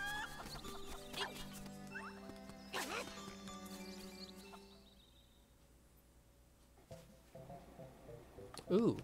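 Chicken clucking from the Legend of Zelda: Link's Awakening video game, short game-sound clucks and squawks over chiptune background music, with a brief louder burst of clucking near the end.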